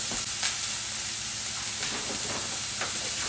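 Chopped onions sauté in a pan with a continuous loud sizzle and steamy hiss, joined by occasional scrapes of a utensil moving them around.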